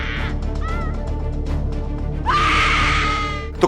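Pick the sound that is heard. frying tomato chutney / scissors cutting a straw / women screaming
women screaming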